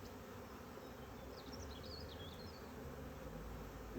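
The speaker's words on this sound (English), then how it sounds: "I'm shaking the bees into the bottom" Honey bees buzz around an opened hive during an inspection, a steady faint hum with a few individual bees droning and wavering close by, no talking.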